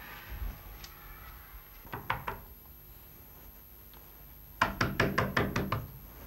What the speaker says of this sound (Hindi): शेखर भैया प्लीज दरवाजा खोलिए